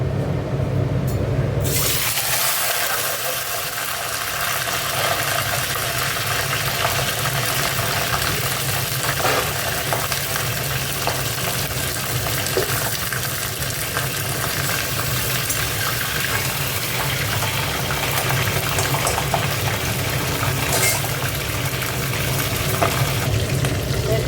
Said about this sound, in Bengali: চলো এবার কড়াটা ধুই।